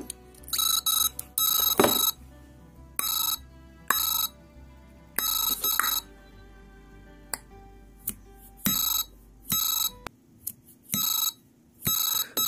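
Jaycar Jiminy electronic cricket DIY kit chirping through a small speaker, sending bright, high-pitched electronic chirps in irregular bursts separated by short silences, fairly close and alone.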